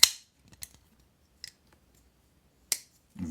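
A Fox Phoenix pocketknife with a freshly loosened pivot gives four or five crisp, close metallic clicks and snaps as the blade swings open and shut, spaced apart with quiet gaps between.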